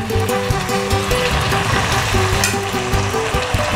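Potatoes go into a pan of fish head and cabbage curry cooking with tomato sauce, giving a loud, continuous close sizzle and frying crackle with stirring scrapes throughout.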